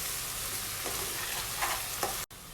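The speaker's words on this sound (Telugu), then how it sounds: "కర్రీ లీవ్స్ అంతా కూడా కలిసేటట్టు మిక్స్ చేసుకోవాలండి" Curry leaves stirred and frying in hot oil in a pan for egg biryani, a steady loud sizzle with a few scraping stirs of a utensil, cutting off abruptly near the end.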